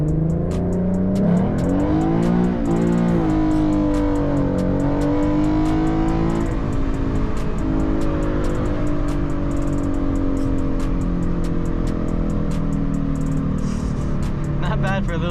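A Ford Mustang 3.7L V6 engine revs up and holds a loud, steady drone from inside the cabin, pitch climbing and easing over time with faint ticking above.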